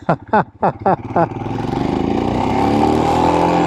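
A motorcycle ridden on a sandy gravel road gives a few short, sharp throttle blips, then settles into a steady, close engine drone as it rolls and turns.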